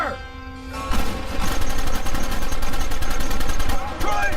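Gunfire in the video game Red Dead Redemption: a dense, loud burst of rapid repeated shots in a shootout, continuous for several seconds, with voices briefly shouting under it.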